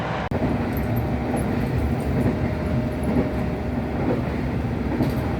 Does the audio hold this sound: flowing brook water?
no